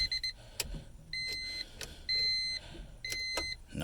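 A 1997 Honda Civic's warning chime beeps in short repeated bursts during a test of a new ignition switch, with brief clicks and faint rustling in between, close and alone without speech.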